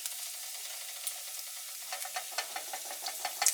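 Strips of bacon sizzle quietly in a frying pan, a steady faint crackle broken by sharp pops and spits that grow more frequent toward the end.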